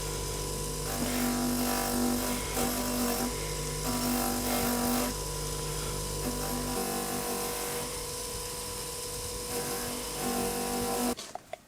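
A bench grinder converted to a metal polisher spins a sisal wheel against corroded metal, a loud steady whirring hum with rougher grinding swells as the piece is pressed on, ending abruptly with a few clicks.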